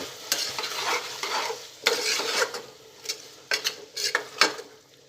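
Spiced pea and potato curry stirred in a pan after cumin-coriander powder goes in, a spoon scraping through the thick mix in bursts with a light sizzle underneath, close and moderately loud, no talking.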